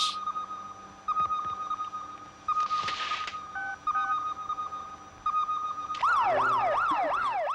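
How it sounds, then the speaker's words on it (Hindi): A fire brigade siren wails in a rising and falling pattern, loud and close, entering near the end after a spell of electronic beeps and tones. "ये फायर ब्रिगेड की आवाज है।"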